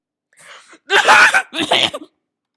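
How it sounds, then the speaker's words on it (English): A person fakes a cough into a phone call, giving a short throat sound followed by two forced, breathy coughs, close and loud. "my fake cough absolutely sucks"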